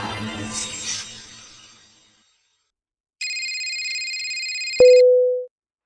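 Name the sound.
telephone ringing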